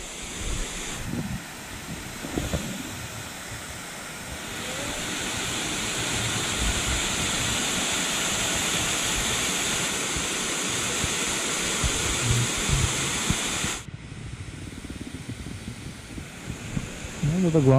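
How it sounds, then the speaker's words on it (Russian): The main waterfall on the Agura waterfalls trail near Sochi roars as a broad, steady rush of falling water, close and continuous, with some wind buffeting and brief rustling early on. "Это главный уже водопад."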